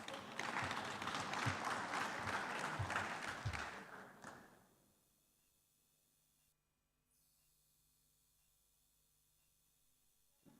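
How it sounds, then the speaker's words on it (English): Audience applause at a conference session of the 3i Africa Summit 2024 in the main hall, a dense burst of clapping for about four seconds that fades out into near silence. "let's give him a round of applause as he kicks us off"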